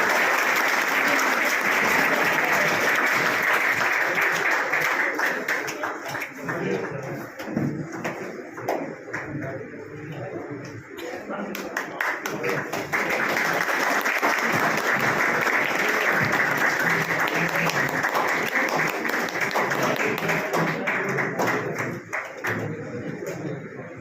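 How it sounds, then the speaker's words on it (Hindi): Sustained applause from an audience at a coaching institute's book launch function, loud dense clapping that dips briefly midway and then returns strong, with scattered taps and knocks among the crowd. "तालियां बजाते रहिए।"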